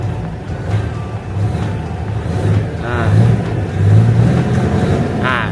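A Hino 700 truck engine fitted with an electric throttle box revs up and settles in a steady low rumble, rising in a few swells, loud and close with no talk.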